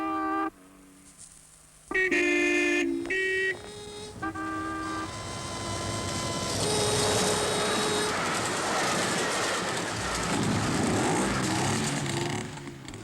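A train horn toots in several blasts before the train rumbles past nearby, wheels clattering steadily over the rails.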